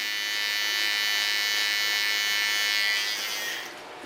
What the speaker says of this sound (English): Clean the line with the clipper and hold it in a blunt line.